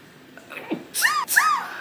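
Two quick sneezes from an allergy sufferer, close and fairly loud, coming in rapid succession after a brief quiet breath, with no talking around them.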